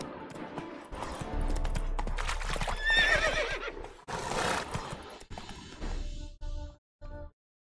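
Geralt's horse Roach in The Witcher 3: Wild Hunt lets out a loud, agitated neigh and whinny alongside clopping hooves and snorting, close and intense in bursts that break off into short pauses.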